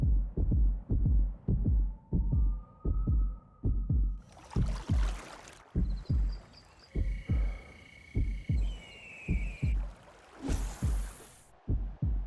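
Steady heartbeat effect, a regular series of deep paired thumps repeating throughout, with swelling hums, whooshes and tonal effects layered on top partway through.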